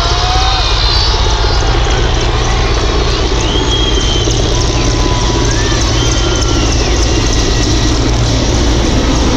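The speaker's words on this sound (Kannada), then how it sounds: "ಯುದ್ಧಗಳಲ್ಲಿ ಬಳಸುವ ವಿಮಾನ ಇದು" Indian Air Force military aircraft roar loudly and continuously overhead during the Mysore Dasara air show, a dense steady engine rumble that fills the whole clip with no pause.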